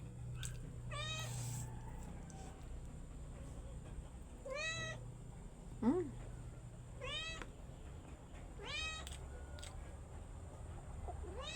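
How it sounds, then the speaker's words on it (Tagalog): A cat begging for food meows repeatedly, about six drawn-out, rising-and-falling cries spaced a couple of seconds apart, over a steady low hum with no talking. "Humihingi ang aking pusa."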